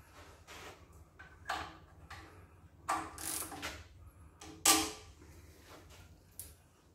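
A socket wrench ratchets on a bolt while a Dodge 5.9 Magnum engine is torn down, giving quiet bursts of clicking in several separate short runs with pauses between them, close by and without speech.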